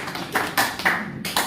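A few separated hand claps from an audience at a devotional song gathering, irregular and moderately close, no talking over them.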